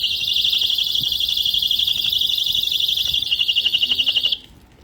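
A personal safety alarm keychain buzzer sounds a loud, piercing, continuous shrill tone close by, pulsing toward the end before cutting off abruptly.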